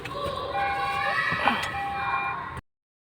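Seatbelt warning chime in a 2024 Toyota Yaris Cross Hybrid HEV, steady repeating electronic tones sounding inside the cabin over engine and road hum, ending abruptly.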